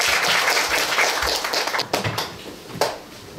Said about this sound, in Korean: 박수 한번 받으시죠.